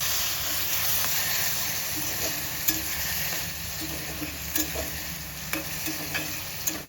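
Fish and taro stolons sizzling and frying in a pan as a splash of water goes in, a steady hiss with scattered crackles and soft stirring clicks close up, no talk.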